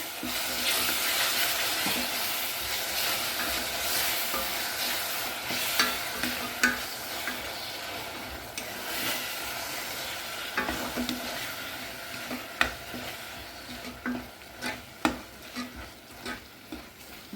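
Coriander, cumin, fenugreek and garlic paste sizzle steadily in a pan, with a constant close frying hiss and occasional scrape-and-stir clicks growing more frequent toward the end, no voices.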